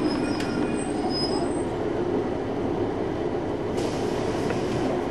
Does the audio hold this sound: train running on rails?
yes